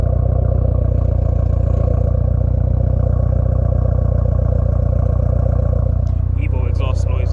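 A Mitsubishi Evo 8 engine tuned with a Link ECU idles with a loud, steady, throbbing rumble close by, and a person talks over it near the end.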